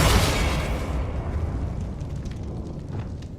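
Loud spell explosions from Bombarda and Confringo in Hogwarts Legacy: a big booming blast at the start that decays into a rumbling, crackling tail with scattered small pops.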